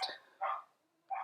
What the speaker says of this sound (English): Sorry about the dog barking again,